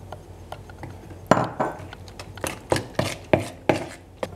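Eggs mixed into creamed butter and sugar for chocolate chip cookie dough, a series of sharp clacks and thuds of a utensil hitting the bowl, irregular at first then quickening into a rhythmic beat, close and fairly loud.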